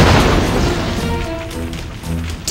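A loud explosion rips through a power facility in the video game Trauma Team, a heavy broadband blast up front that rolls into a long rumbling decay, with musical tones ringing beneath it.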